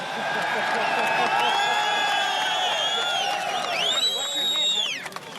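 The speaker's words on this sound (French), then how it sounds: "On ne vous entend pas, crie la foule." A large crowd at Ground Zero shouting and cheering, loud overlapping voices with rising whoops and yells, swelling near the end, heard up close and alone.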